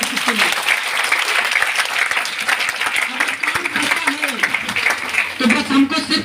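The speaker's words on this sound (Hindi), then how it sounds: "तो जोरदार ताली होना चाहिए आपके लिए।" Audience applause fills a hall, sustained clapping from a crowd that stays steady and loud from start to end, with a few voices rising briefly over it near the close.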